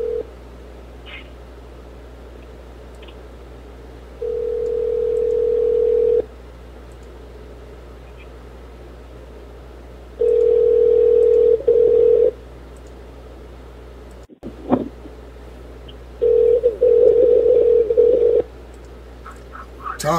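A telephone line sounds while calls are placed: three separate steady tone bursts, each about two seconds long, spaced by quieter gaps, with a brief click partway through.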